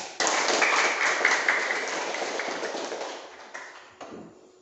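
Classroom of students applauding their discussion groups, a burst of dense hand clapping that starts abruptly and gradually thins out and fades over a few seconds.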